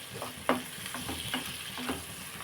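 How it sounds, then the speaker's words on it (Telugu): Onions fry in a pan with turmeric and salt for a chicken fry, giving a steady soft sizzle while a utensil stirs and scrapes the pan in several short, close strokes. "బాగా ఉల్లిపాయ వేపేసుకుందాం అండి."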